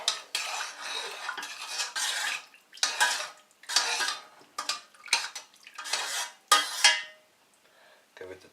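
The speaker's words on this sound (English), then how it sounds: "Give it a good stir." Spoon scraping and clinking around a pot of tomato-coriander soup being stirred over medium heat, in short bursts of metallic scraping with brief pauses, close and fairly loud.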